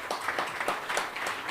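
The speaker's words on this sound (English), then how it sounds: "Round of applause for Quillen" A live event audience claps for a prize winner, a brief, thin patter of scattered clapping at a moderate distance.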